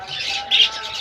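Caged pet birds give a quick pair of bright, high chirps close by, loud and clear against a quiet room.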